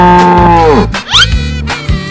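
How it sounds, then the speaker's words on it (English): A cartoon cow moos loudly in one long, falling low call lasting most of the moment, followed by brief squeaky cartoon sound effects and a few short low thumps. "Cow."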